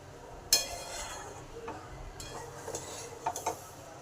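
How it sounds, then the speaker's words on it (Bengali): A spoon stirs Basanti pulao in a pot, with a sharp metallic clink at the start and a few quieter scrapes and taps afterward over a low steady background. "একটু নেড়ে দিই।"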